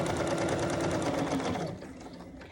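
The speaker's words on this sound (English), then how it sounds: "Love my sewing machine" A Bernina 770 QE sewing machine stitching with its built-in walking foot, sewing a pocket onto a half apron. The needle runs in a steady, rapid rhythm, close and clear, then slows and softens near the end.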